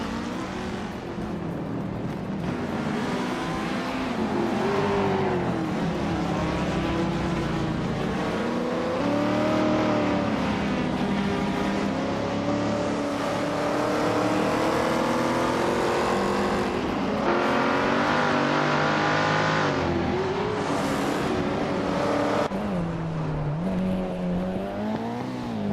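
Video game race cars, including a 1970 Ford Escort Mark I, rev and race in a continuous engine whine, rising and falling pitch through gear changes across the whole stretch, with no talk.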